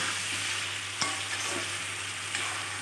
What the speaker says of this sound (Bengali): এবার মশলাটা ভালোভাবে সবজির সাথে কষিয়ে নেব